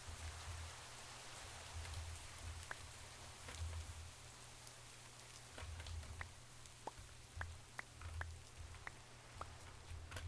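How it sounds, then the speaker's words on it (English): Rain falls in the Minecraft modpack TerraFirmaGreg, a soft, steady patter with scattered individual drops ticking sharply on surfaces over a low rumble, with no one talking. "we're gonna get some rain into the barrels after all"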